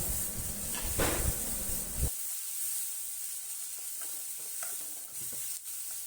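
Onions sautéing in a pan for mutton kola urundai kulambu, with a steady loud sizzle and a short burst of stirring at the start.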